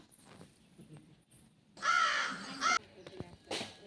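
A crow caws harshly at close range, one drawn-out raspy call standing out against faint background sounds.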